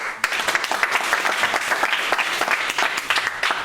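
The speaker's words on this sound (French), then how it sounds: "qu'on applaudit bien fort, s'il vous plaît." Audience applause welcoming a speaker to the stage at an evening talk, steady dense clapping from a close crowd that holds throughout without fading.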